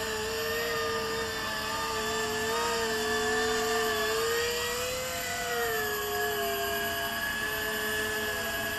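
Steady, loud whine of an E-flite V-22 Osprey RC tiltrotor aircraft hovering, its rotor and motor pitch wavering slightly as it holds position outdoors near a tree line, with no talk.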